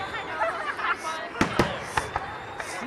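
Fireworks burst at the Bay City fireworks show, with several sharp distant bangs and pops under crowd noise and nearby voices.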